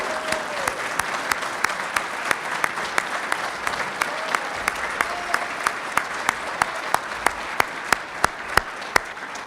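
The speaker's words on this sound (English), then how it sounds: "let's all the rest of us give these great heroes in our program a round of applause." Round of applause at a Special Olympics awards celebration, a sustained crowd clapping with one close, loud, regular clap standing out steadily throughout.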